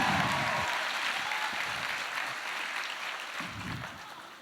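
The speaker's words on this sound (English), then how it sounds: "another big round of applause for Beth!" Applause from an audience at a talent show for autistic performers, a dense sustained clapping that fills the whole stretch at steady loudness, fading slightly toward the end with no talk over it.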